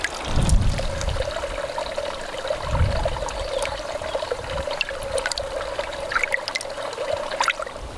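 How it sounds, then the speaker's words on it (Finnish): Clear stream water trickling steadily outdoors, a continuous close babble of running water with small splashes and a few louder gurgles, no voices. "mä löysin tämmöisen ihanan puron kiinni"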